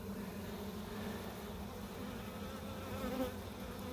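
Steady, dense buzzing of a captured wild honey bee swarm inside a hive box, a continuous low hum that fills the space with no pauses and no voices.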